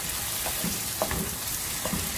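Onion, ginger and garlic sautéing in an iron kadai, a soft steady sizzle with light scattered crackles and stirring taps, close and continuous without speech.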